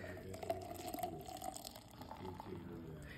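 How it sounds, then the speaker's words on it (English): Water pours steadily into a glass jar being set up as a homemade room scent jar, a close liquid trickle running with some background noise and a voice speaking faintly underneath. "All I'm going to do is pour the water into my glass."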